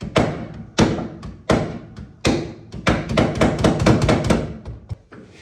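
A hammer strikes truck seat parts in a run of dull, solid thuds, slow and spaced at first, then quicker and denser; close, moderately loud, with no talking.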